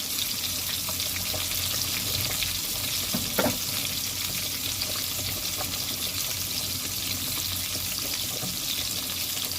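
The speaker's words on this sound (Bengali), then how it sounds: "2 পিস দিয়ে প্রথম ভেজে নেব, তারপরে 3 পিস ভেজে নেব" Pieces of catla fish frying in hot oil give a continuous, loud, hissing sizzle, with a brief clatter partway through and no talk.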